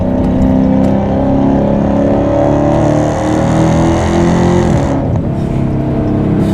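A widebody Dodge Challenger SRT Hellcat Redeye's supercharged engine roars loud and close under a hard pull, holding a steady, rising drone that climbs in pitch, then dips sharply near the end as the gear changes and the pull resumes.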